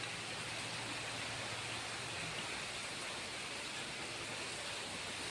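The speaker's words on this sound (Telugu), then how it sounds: "ఫుల్ పెద్ద వర్షం" Heavy rain pours down steadily as broadband hiss, watched from a balcony, loud and unbroken throughout with no voices.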